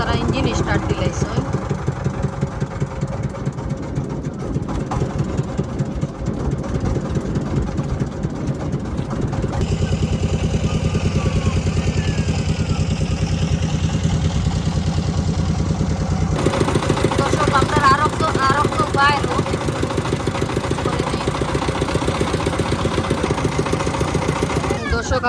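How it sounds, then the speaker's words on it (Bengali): A boat engine starts and settles into a steady idle aboard a small boat off White Stone beach in Bangladesh, a continuous low throbbing drone running the whole time under wind and nearby voices talking. "এখন তারা ইঞ্জিন স্টার্ট দিলাইছে।"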